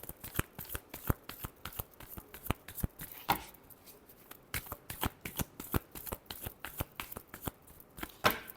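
Tarot cards shuffled by hand in rapid, rhythmic bursts of crisp clicks and flutters, close up and moderately quiet, continuing with a brief pause midway.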